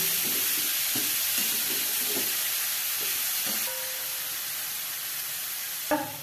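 Cauliflower florets sizzle and fry steadily in a pan over medium heat, with a spoon stirring through them in several rhythmic scrapes before a brief clink near the end.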